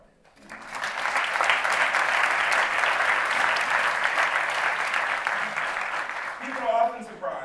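Audience applause fills a hall after a president is introduced at a Duke University talk, a dense sustained clapping that swells quickly, holds steady for several seconds, then fades as a voice begins.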